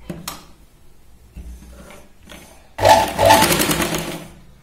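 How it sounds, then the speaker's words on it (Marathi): A sewing machine runs straight stitching on blouse fabric with lining: short bursts of motor whir and needle clatter, then a longer, louder continuous run of rapid stitching up close. "सरळ शिलाई लावून घ्यायची"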